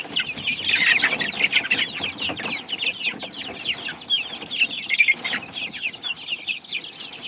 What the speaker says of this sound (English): pretty much all of the Andalusian bantams I've got in this group are cockerels